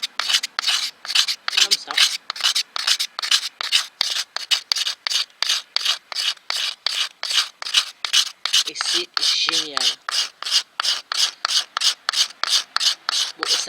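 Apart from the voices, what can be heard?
scraping wood with a saw blade scraper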